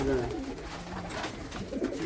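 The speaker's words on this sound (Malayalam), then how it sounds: "ഇപ്പൊ എന്റെ പാർട്ട്ണർ കബീർ പാലക്കാട് പോയപ്പോൾ കൊണ്ടുവന്നതാണ് ഒരു ജോഡി പ്രാവ്" A pair of pigeons coo softly in low, repeated throaty calls against a busy background with faint voices nearby.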